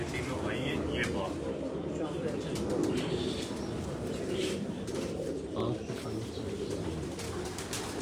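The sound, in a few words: Sialkoti pigeons cooing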